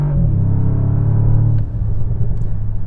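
A Bentley Continental GT Speed plug-in hybrid's exhaust drones with a deep, loud burble as revs drop on the paddles, then a few sharp pops and crackles sputter out near the end.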